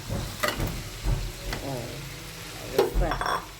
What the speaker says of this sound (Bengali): এবার আমি এটারে ভালোভাবে নাড়াচাড়া করে নেব সবগুলোরে।